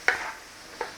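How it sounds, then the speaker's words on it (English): Franks and beans being stirred in a pot: two short scraping, wet strokes, one at the start and a softer one near the end, with a quiet simmering hiss between them and no talking. "Nice little stir through."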